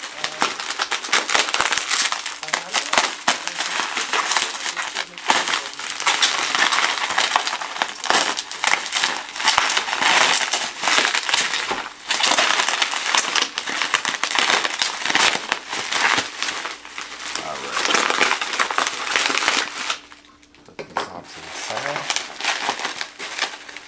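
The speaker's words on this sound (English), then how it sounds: "go ahead and cut through some of this tape" Packing tape and bubble wrap being cut through, giving a steady, close run of crinkling, crackling plastic noise that continues for about twenty seconds before a brief quieter pause.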